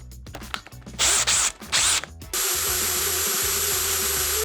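A power drill reaming out copper pipe: a few short high whirring bursts with clanking handling noise between them, then a steady sustained drill whine running to the end.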